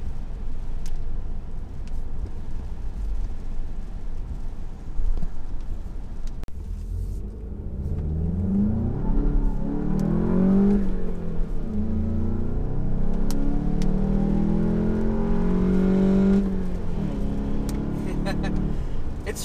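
A 2018 VW Golf GTI MK7 rumbles low on the road, the engine note swelling as it accelerates partway through. Someone talks over it almost the whole time.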